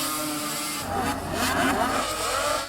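Snowmobile engines roar and rev together as pro snocross racers launch off the line at a qualifying race in Duluth, a loud, dense, rising whine filling the air.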